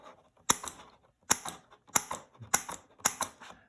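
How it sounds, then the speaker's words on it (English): Hand point punch cutting small paper points for pinning dried insects, giving five sharp, evenly spaced mechanical clacks up close, each followed by a short rattle. "If you need to make your points, obviously I have a bottle I've already cut, but you use a point punch"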